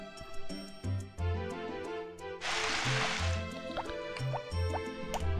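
Harvest Moon: Back to Nature watering: a burst of splashing water from a watering can on crops pours out midway, surrounded by soft plinking drip effects and bubbly tones over light background music.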